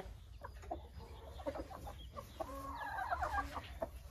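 A rooster and a hen at a country dacha yard, with several soft, close clucks and short calls scattered through a quiet outdoor background.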